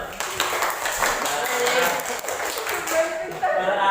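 A classroom of students claps for a classmate who answered a teacher's question, a dense burst of hand claps lasting the whole moment, with voices mixed in.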